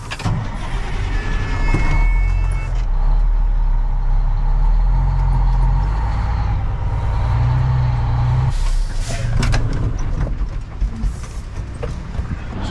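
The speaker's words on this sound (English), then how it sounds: "I'm gonna pull this dump truck up for a little while." A dump truck pulls up on a muddy construction site while a patio is being graded, its diesel engine rumbling loud and close throughout, with air-brake hisses and clanks near the start and a louder surge toward the end.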